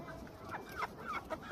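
A rooster clucks in a few short, soft calls close by on a farm, faint against low background noise.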